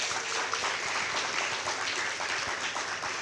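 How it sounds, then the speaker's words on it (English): Steady, even applause from a seated audience at a book launch, a continuous wash of clapping at moderate level with no talk over it. "she deserves a round of applause"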